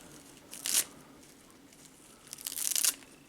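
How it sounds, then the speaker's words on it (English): Kitchen scissors snip fresh cilantro, two short crisp clusters of cutting and crunching a couple of seconds apart, quiet and close with no talk. "I'm just going to use my my kitchen scissors, which I love these, and then I'm just going to take little tiny cuts off of this"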